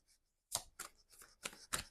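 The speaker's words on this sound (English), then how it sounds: "I'm just going to shuffle up this tarot a little bit." Tarot cards are shuffled close up in a quiet room, five or six quick riffling bursts in an uneven rhythm, each one crisp and papery.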